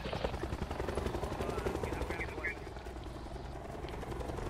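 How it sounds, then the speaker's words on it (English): Helicopter rotor chop from a Call of Duty: Black Ops 4 Blackout match, steady and fairly loud throughout, mixed with game effects and some talking. "This helicopter's coming in."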